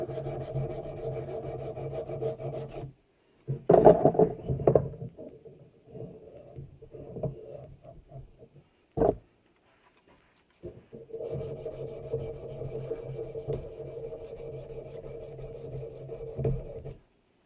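Sandpaper rubs by hand on a Spanish black powder pistol during restoration, giving steady close rasping strokes in long runs, with a short busier burst and brief pauses between passes.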